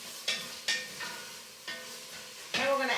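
Vegetables stirred in a frying pan for sloppy joes, soft steady sizzle with a few scraping strokes of a utensil against the pan, close and fairly quiet.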